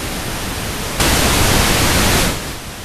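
Pink noise test signal plays through a mixing console's left-right bus, a steady broadband hiss that jumps noticeably louder for about a second and a half before dropping back.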